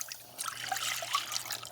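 Water trickles and splashes as it is poured into a pot for cooking white rice, a short, close, gurgling pour with small bubbly plinks over a faint low hum.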